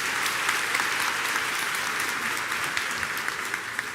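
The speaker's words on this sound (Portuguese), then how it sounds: "Dá uma salva de palmas." Congregation applauding at a church gathering, a steady, dense wash of many hands clapping that holds evenly for several seconds with no talk over it.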